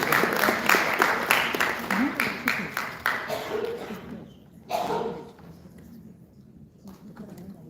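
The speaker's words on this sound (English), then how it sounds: "A big round of applause." Audience clapping at a district department strategy meeting, several seconds of brisk applause that thins out and fades, followed by quieter room sound with faint talk.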